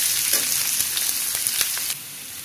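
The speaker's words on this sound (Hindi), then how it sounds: "अनियन को गोल्डन ब्राउन होने तक फ्राई कर देंगे" Onions and soaked chana dal frying in a hot pan, a loud dense sizzle with light stirring scrapes throughout that eases slightly at the end, no voices.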